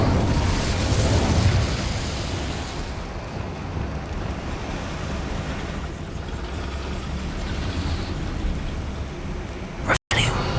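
The Incendio fire spell in a Harry Potter video game erupts as a sustained, loud, roaring whoosh of flames with crackling texture, ending in a sharp cut near the close.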